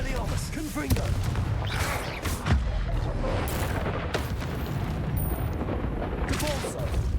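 A Confringo blasting spell explodes in a video game, producing a loud, dense burst of booming, crackling blasts that rumbles on without a break for several seconds, with a voice calling out near the start.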